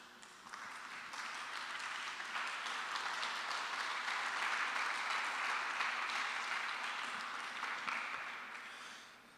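A church congregation applauds together at a Spanish-language service, a dense, steady wash of clapping that swells in and holds loud for several seconds before tapering off at the end.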